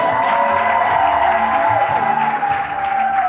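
A crowd claps at a civil wedding ceremony at the registry office, steady applause with a sustained tonal hum running beneath it.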